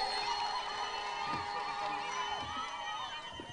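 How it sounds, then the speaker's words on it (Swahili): A crowd at an outdoor empowerment program in Etago applauding and cheering for MP Silvano Osoro, a continuous wash of clapping and shouting with occasional whoops, steady and moderately loud throughout. "Tumpigie makofi Mheshimiwa Silvano Sosoro."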